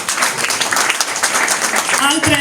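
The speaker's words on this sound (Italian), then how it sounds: "Farei un applauso" Applause from an audience at an Italian book presentation fills the room, a dense, steady wash of clapping that holds loud throughout, with a voice briefly heard over it near the end.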